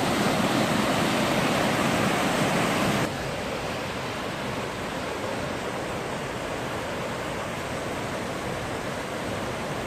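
Waterfalls at Lastiver in Armenia roar as a steady, broad wash of rushing water, loud and continuous, dropping slightly in level partway through.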